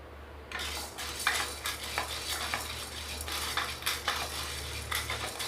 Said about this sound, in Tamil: நம்ம எடுத்து வச்சுருக்க கடலைப்பருப்பை வறுத்து எடுத்துக்கலாம்.